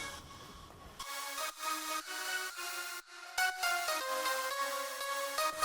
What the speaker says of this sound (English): we use several layers to add on the piano